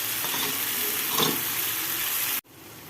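Onions and finely chopped tomatoes fry in a pan with garlic for an imam bayıldı dish. A steady close sizzle is heard with a brief stirring scrape, then it cuts off suddenly and goes much quieter.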